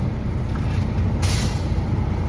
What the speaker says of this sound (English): I'm going to fan my brakes to get it below 100.